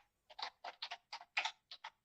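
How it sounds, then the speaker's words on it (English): Keys clatter on a loud Corsair K95 mechanical keyboard in short clustered bursts of crisp clicks, close and distinct, with brief pauses between groups of strokes. "I always forget on how loud this mechanical keyboard is."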